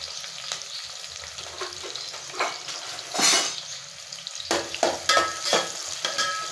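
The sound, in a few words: onions frying in oil in a wide pot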